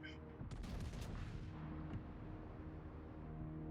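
Battleship Thunderer's front guns firing in a naval warfare game: a heavy booming salvo with sharp cracks early on, then a long rolling rumble that fades, close and loud.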